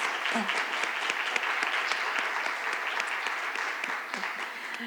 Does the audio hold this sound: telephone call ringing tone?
no